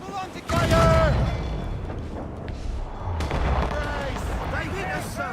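Enemy cannon fire striking a sailing ship in Assassin's Creed Rogue, with a heavy boom and crash near the start, then rumbling naval battle noise and a second impact, while shouting crew voices carry over the din.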